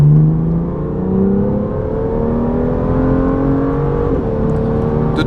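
A BMW M2 with a 370-horsepower engine revs steadily and loudly up close, its drone rising and falling with a few gear-shift dips, with no one talking.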